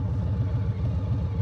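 Harley-Davidson Low Rider ST engine idling at a traffic light, a steady low throbbing rumble with an even pulsing beat, close and fairly loud throughout with no talk.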